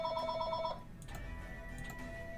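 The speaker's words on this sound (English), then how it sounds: "phone's ringing" A telephone rings in the background during a game session: a short, fairly faint warbling ring burst that cuts off after under a second, leaving a steady room hum.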